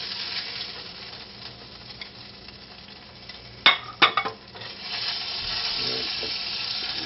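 A hamburger steak is lifted out of a frying pan, with a faint sizzle underneath and a quick cluster of sharp metal clanks and scrapes from the utensils against the pan midway.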